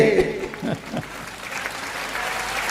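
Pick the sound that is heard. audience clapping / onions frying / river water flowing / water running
audience clapping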